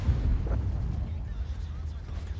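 A tank cannon fires in the World of Tanks video game, one heavy booming blast followed by a rumbling low tail, loud and close.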